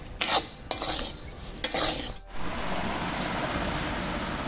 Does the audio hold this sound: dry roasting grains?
yes